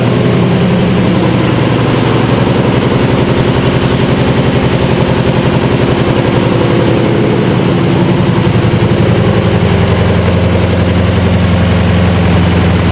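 A 1973 Volkswagen Beetle engine runs on fuel left in the carburetor with the fuel pump off, a loud, steady, rapid air-cooled chatter that idles close by without letting up.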